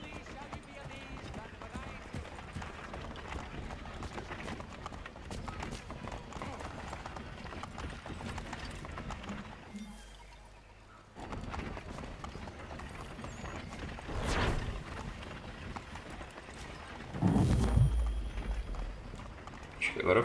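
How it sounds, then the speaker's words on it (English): Horse hooves clip-clop at a steady gallop in Assassin's Creed III, running continuously under game music and ambient noise, with a brief lull midway and a louder burst near the end. "eu não lembrava de andar de cavalo"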